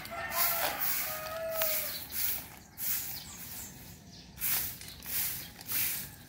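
Roosters crowing repeatedly at a distance over a steady outdoor hum in the rural Philippines, several drawn-out calls overlapping across the scene.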